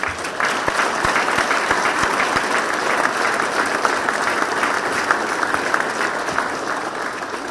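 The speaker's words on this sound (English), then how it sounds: "please a round of applause for them." Warm, steady applause fills the room at a public safety complex dedication ceremony in Providence, many hands clapping together at moderate volume and holding evenly throughout.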